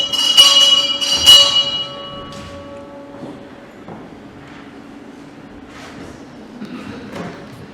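A church bell rings twice in quick succession near the start, loud and resonant, with the tones fading out. Scattered faint thuds and rustles follow in a quiet setting.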